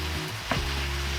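Tempeh fries in soy sauce in a pan with a loud continuous sizzle and one brief scrape of stirring partway through.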